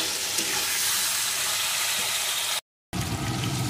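Broad beans stir-fry in a pan with a steady, close sizzle and light stirring, broken by a short cut of silence before the frying resumes.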